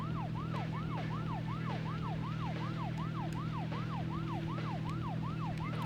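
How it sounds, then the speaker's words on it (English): An emergency vehicle siren blares in the video game Deadly Premonition, a fast repeating up-and-down wail that holds steady over a low engine drone throughout. "We blast the siren the whole damn way."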